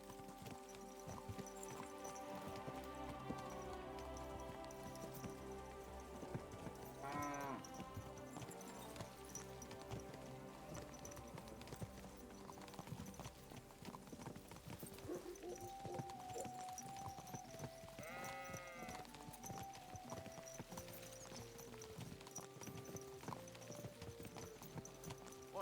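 Steady clip-clopping horse hooves plod along in the video game Kingdom Come Deliverance 2, under a busy bed of music and ambient sound, even and continuous throughout.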